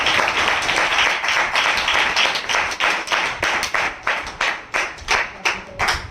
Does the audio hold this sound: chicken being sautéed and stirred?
no